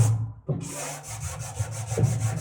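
A sanding block rubbed back and forth over a wooden front door, a brief pause then a steady run of rhythmic scraping strokes, close and continuous.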